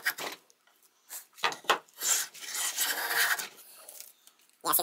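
A combination plane cuts stringy hackberry wood in irregular rasping strokes, short scrapes and rubbing passes at close range, fairly quiet, with no one talking.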